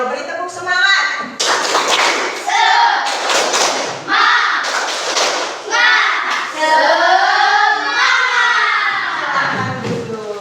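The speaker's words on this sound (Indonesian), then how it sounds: "Mari Ayo beri tepuk semangat." A class of schoolchildren claps their hands together in bursts of rhythmic group clapping, with a teacher speaking and children's voices between the claps.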